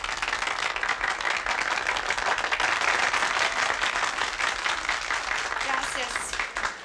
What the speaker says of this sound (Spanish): Viene el aplauso grande para nuestra soberana.